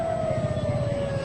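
An ambulance siren sounds at the scene of an explosion at a police post near Sarinah on Jalan Thamrin, Jakarta, as one steady, sustained wail, moderately loud over a low rumble of traffic.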